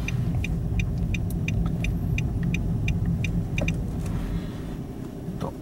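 Nissan Note e-Power Nismo driving in normal mode, giving a steady low road and motor rumble inside the cabin with faint high ticks and clicks over it and no talk.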